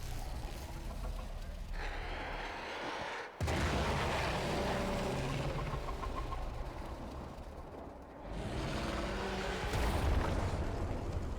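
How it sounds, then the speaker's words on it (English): A Warframe explosion erupts with a sudden loud boom, followed by a long rumbling roar of blasts and debris. A second surge of noise swells near the end, with no talking. "There should be useful detritus falling from the explosion."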